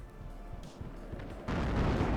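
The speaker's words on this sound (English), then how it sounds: "Artillery already firing smoke in this area." Artillery fire in the WarYes strategy game, a steady low rumble of distant guns that suddenly swells into a louder, denser roar of booms partway through, with no talking.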